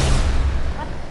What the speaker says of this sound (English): I literally shoot this guy.